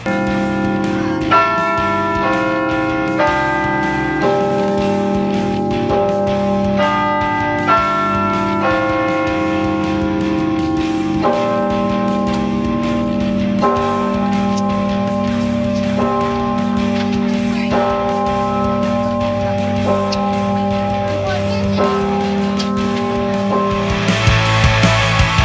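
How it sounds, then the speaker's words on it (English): Tower bells on the UC Berkeley campus played as a carillon tune, clear ringing melodic strikes in a steady sequence with long overlapping resonance, loud and sustained throughout. "it's a Berkeley tradition that the bells are played 3 times a day, and I'm really excited to play it today"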